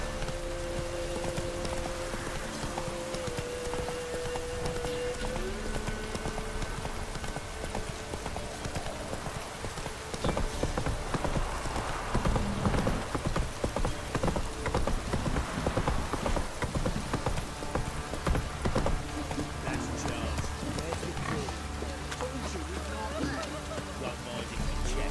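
Roach the horse gallops in The Witcher 3, steady rhythmic hoofbeats drumming over rain and ambient game sound, with a voice speaking over part of it.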